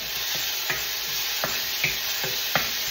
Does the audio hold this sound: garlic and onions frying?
yes